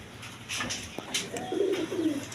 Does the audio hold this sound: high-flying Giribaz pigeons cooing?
yes